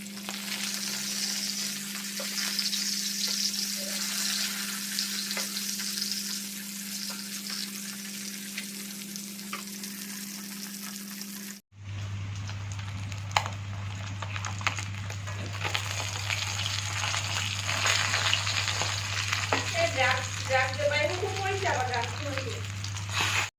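Eggplant, besan and potato sizzle steadily in hot oil throughout, with a lid or pan shift midway, while a person talks over the frying.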